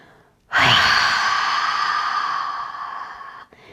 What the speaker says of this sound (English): let's say we're gonna exhale all the air out